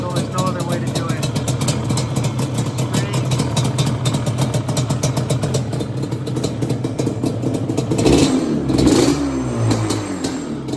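A dirt bike fitted with a Toomey exhaust revving close by. The engine holds a steady buzzing run and swells into a louder rev toward the end, with someone talking over it.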